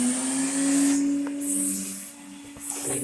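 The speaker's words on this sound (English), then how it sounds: "Blower." An air blower clears debris from the roof of a 1968 Camaro, giving a steady, loud whooshing roar with a hum underneath that runs through the whole stretch and dips slightly near the end.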